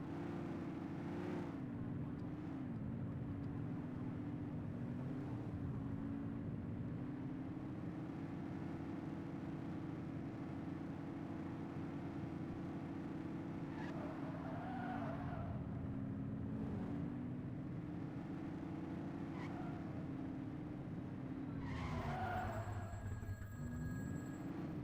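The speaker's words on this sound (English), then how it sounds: "Get in the dang car" Car engine in a video game set in the streets of Averno, a steady loud drone that rises and falls with shifting revs, with short tire screeches near the middle and end as the car skids.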